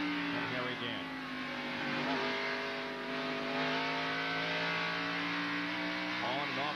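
Onboard a NASCAR stock car during the 1991 Bud 500, the engine drones with steady harmonic tones and then dips as the driver lifts off the throttle approaching a turn, with a commentator talking over it.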